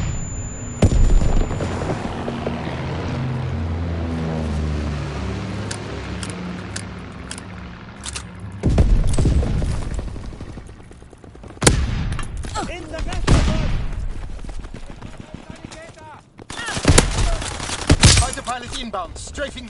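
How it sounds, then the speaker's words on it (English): An aircraft strafing run in a WW2 video game: a droning, tonal engine rumble gives way to loud, ragged bursts of gunfire and booming impacts that come in several waves. "Inbound, strafing the target."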